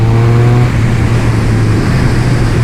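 A Triumph Speed Triple 1200 RS roadster, a 180-horsepower bike fitted with an up-and-down quickshifter, holds a loud, steady engine drone that briefly dips and shifts pitch early on, as in a quick gear change, then carries on evenly.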